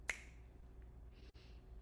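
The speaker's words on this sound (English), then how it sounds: "open your eyes and snap your fingers" One sharp finger snap rings out near the start at the close of a guided energy-healing meditation, close and crisp, followed by a quiet room.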